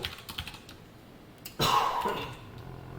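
Typing on a computer keyboard during a Java programming lesson, a few light scattered keystrokes and then a louder burst of clacking about halfway through, close by with no talking.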